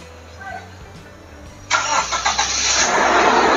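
Toyota Kijang Innova petrol engine cranks and fires up loudly at close range, settling into a steady running roar after a quiet lead-in; a voice is heard nearby.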